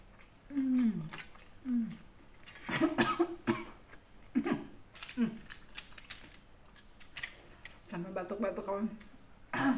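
Several short coughing bursts spread across the clip, close by, with talking mixed in and a steady high insect-like hum behind.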